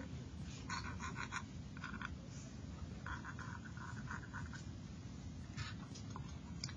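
A pencil sketching the outline of an apple on paper, heard as short scratchy strokes in intermittent bursts over a faint steady background hiss.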